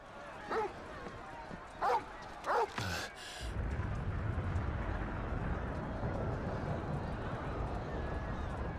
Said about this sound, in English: Would he bark at Gav?